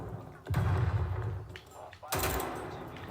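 Gunfire from the Call of Duty Cold War video game on Xbox Series X: two loud bursts of close shots, one near the start and another about two seconds later, each trailing off.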